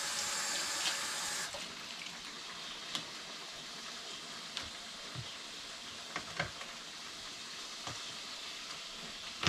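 Running tap water splashes steadily into a sink as garlic is rinsed, a soft continuous hiss with a few small clinks and knocks over the flow.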